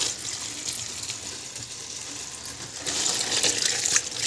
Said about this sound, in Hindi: तो आप इसे ऐसे दो तीन बार अच्छे से डुबो डुबो के पानी में धो लीजिए